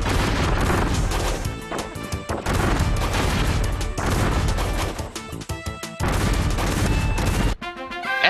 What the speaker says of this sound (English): Now, drop the bomb.